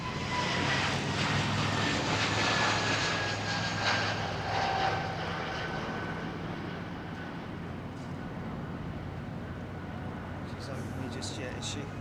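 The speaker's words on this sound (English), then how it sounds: "Delta 767 400 GE CF6 taxiing out." Delta Boeing 767-400 with GE CF6 engines taxiing at London Heathrow, a broad steady jet roar that slowly fades, with a voice talking over it.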